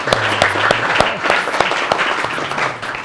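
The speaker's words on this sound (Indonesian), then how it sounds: "Mari tepuk tangan dengan embrio yang sudah kita munculkan" An audience claps at an Indonesian education talk: a dense, steady burst of applause running the whole stretch, with a low hum and scattered sharper claps standing out near the front.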